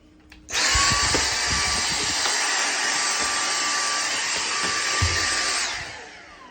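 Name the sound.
Dyson V6 handheld cordless vacuum cleaner running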